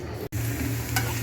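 Onion sizzles and fries in a pan with a dry red chilli, a steady close crackling hiss with a brief stirring scrape and one short gap.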